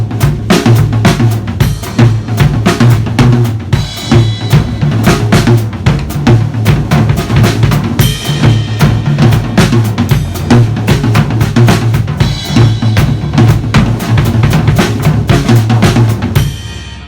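Bo Diddley beat on a drum kit, steady syncopated kick, tom and snare pattern played loud and close throughout, with a busier fill-like variation toward the second half; no talking.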